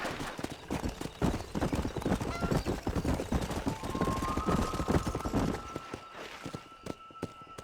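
Horse hooves gallop in Red Dead Redemption, a fast, steady clip-clop rhythm that runs loud and close throughout, with a brief whinny and a faint tone toward the end.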